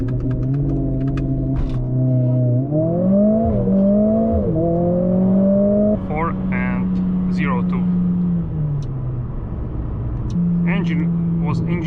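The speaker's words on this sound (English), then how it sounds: "it has this feeling that it goes very quickly into the RPMs" A 2023 Mercedes CLA 45 S AMG turbo engine revs up quickly and loudly, its pitch climbing and dropping in smooth sweeps, with a person talking over it.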